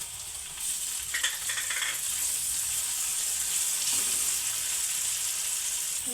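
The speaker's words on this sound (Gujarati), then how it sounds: "ડુંગળી નાખી દેવાની છે હવે જો આપણે ટમેટું નાખી દેવાનું છે" Onion and tomato fry in a pan with garlic, a loud continuous hiss of sizzling oil that holds steady throughout, with a brief brighter crackle early on.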